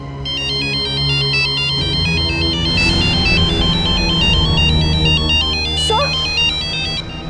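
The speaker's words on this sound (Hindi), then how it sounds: "सर ये उसी का फोन है।" A phone ringtone plays loudly with a repeating electronic melody, a low hum beneath it and a brief sliding tone near the end.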